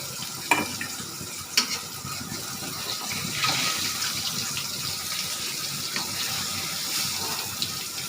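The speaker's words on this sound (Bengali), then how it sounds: "মাছগুলি লাল লাল ভাজা হয়েছে, এখন এগুলি তুলে রেখা" Fried fish being stirred and lifted out of hot oil in a pan, giving a steady close sizzle with a few sharp utensil scrapes and clinks, no talking.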